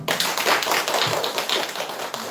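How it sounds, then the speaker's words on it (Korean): Applause from a church congregation during an Easter Sunday service, a dense, steady patter of many hands clapping close by for a couple of seconds, with no talking over it. "다시 한번 뜨거운 박수 하겠습니다."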